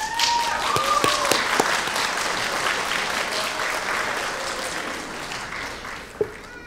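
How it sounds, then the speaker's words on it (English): Graduates at a CHOICE graduation ceremony clapping for their family and friends in the crowd, dense applause that starts strong and slowly thins out, with a few scattered whoops and a single sharp clap near the end. "Please turn, try to locate them in the crowd, and give them a big round of applause."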